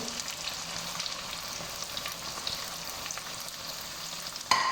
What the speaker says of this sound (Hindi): 2 बड़े साइज के बारीक चॉप हुए प्याज हम ऐड करेंगे।